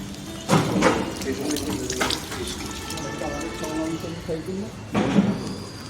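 Hands are washed under a running tap at a temple, with a steady splash of water and people talking nearby.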